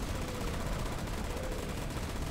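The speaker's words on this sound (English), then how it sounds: "They got a Gatling gun, boss." A Gatling gun in Versus Squad roars as one continuous, dense stream of rapid fire, loud and steady throughout with no pauses.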